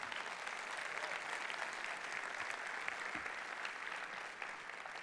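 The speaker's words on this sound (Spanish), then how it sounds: "dar un aplauso al Señor, que Él se lo merece" A church congregation applauds, with a continuous wash of many hands clapping at an even, sustained level throughout and no one speaking over it.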